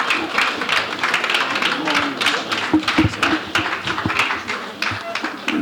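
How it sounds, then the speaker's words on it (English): An audience applauds as a speaker steps forward at a formal talk, a continuous wash of clapping hands with some crowd murmur and a voice mixed underneath. "Please a round of applause for him as he steps forward."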